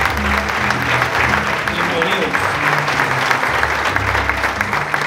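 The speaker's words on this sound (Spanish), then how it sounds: "Yo quiero que todos los socios le demos un fuerte aplauso a esas personas" Applause from the members of a club audience, a dense steady clapping that fills the room throughout, with music or voices faintly underneath.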